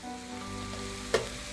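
Cabbage thoran cooking in a covered pan over a medium flame gives a steady, soft sizzle and frying hiss, with a brief louder crackle near the end and no voices.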